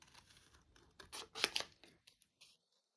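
Scissors snip through paper, cutting out a stamped dahlia flower shape, a few quiet close crisp cuts in a short burst before falling silent.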